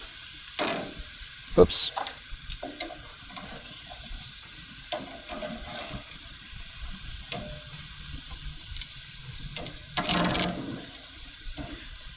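Squash and vegetables sizzle on a grill as they are tossed, with a hissing, watery background and scattered clatters of a utensil; a voice briefly exclaims once.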